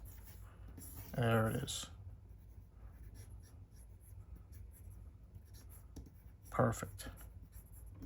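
A pencil sketches on paper in quick bursts of scratchy strokes, close and crisp, one longer run early and another brief flurry later, with someone speaking softly between them.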